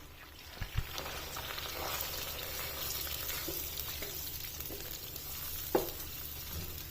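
Onion paste from one medium onion cooks in a pan, a faint, even sizzle with a couple of soft knocks from a utensil, and no talking.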